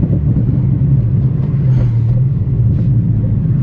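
A Dodge Viper GTC ACR Extreme V10 engine roars loud and close, a steady deep rumble holding through the whole stretch with no voices over it.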